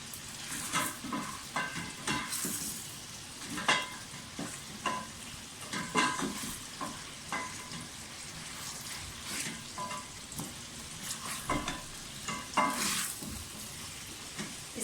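Chicken pieces frying in a pan for a Hindi/Urdu chicken salan, with steady loud sizzling broken by frequent stirring scrapes and sharp crackles, no voices.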